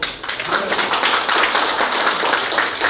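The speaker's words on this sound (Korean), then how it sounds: "차장님께 큰 박수 부탁드립니다" Audience applause at a university session on student care presentations, a continuous dense clatter of many hands clapping for about three seconds, moderately loud and close.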